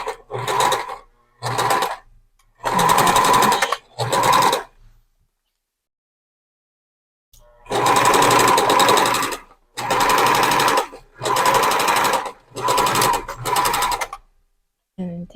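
A sewing machine stitches a strapless dress alteration near embroidery at the waist, running in several loud bursts with short pauses between them and a long gap midway. The runs are near and clear, with no talk over them.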